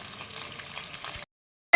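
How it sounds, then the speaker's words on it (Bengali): Homemade paneer pieces frying in refined oil in a wok give a steady, close sizzle for about a second, then a brief silence before a sudden loud burst of crackling. "এবারে আমি পনিরগুলো, আমার ঘরে নিজে বানানো পনিরগুলো একটু করে ভেজে নেব লাল লাল করে।"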